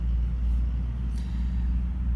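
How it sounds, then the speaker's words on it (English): A car drives past a quiet park, a steady low rumble that holds evenly throughout without any voices. "So if you hear a car driving past, not a whole lot I can do about that."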